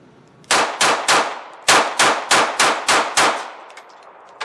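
SCCY pistol fired in a rapid mag dump at a range, eight loud sharp shots close by in quick succession with a brief pause after the third, then ringing decay.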